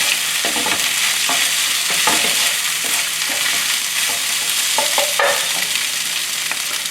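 Thai chicken fried rice stirred and mixed in a hot pan, continuous sizzling with repeated scraping and tossing clicks from the utensil, close and alone without talk.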